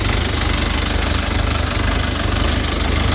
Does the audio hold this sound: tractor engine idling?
yes